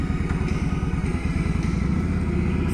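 A Yamaha V-Star 1100 cruiser with saddlebags and a windshield rumbles steadily up close, its deep low engine thrum loud and unbroken throughout with no voices.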